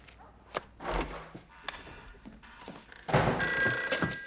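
A telephone bell rings in a quiet room, starting with a few thuds and knocks before a loud, sustained ring bursts in near the end.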